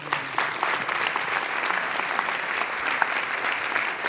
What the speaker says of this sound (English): Give Dave a big round of applause